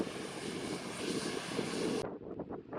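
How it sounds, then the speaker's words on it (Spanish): A private jet arrives at Santiago airport in Chile during a spotter day, its engine roar a broad, steady rush heard from a distance that cuts off abruptly partway through. "También vimos llegar unos aviones privados, son modelos muy elegantes"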